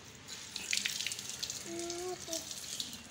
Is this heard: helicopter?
no